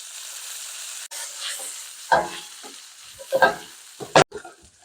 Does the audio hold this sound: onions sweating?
yes